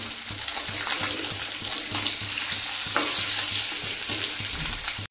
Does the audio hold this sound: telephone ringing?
no